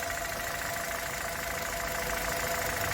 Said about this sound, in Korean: 자, 바로 시동 걸었고요.